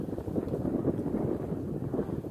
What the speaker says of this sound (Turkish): Felaket rüzgar esiyor.